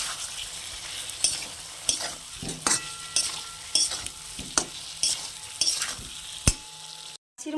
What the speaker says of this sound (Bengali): ওর মধ্যে কষে রাখা ডিম আর আলু দিয়ে দেবো,